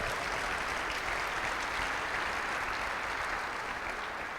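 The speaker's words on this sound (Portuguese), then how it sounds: "Dá um aplauso aí ao Senhor." A congregation applauds during a church family service, a steady dense wash of clapping that holds evenly throughout, moderately distant and with no voices over it.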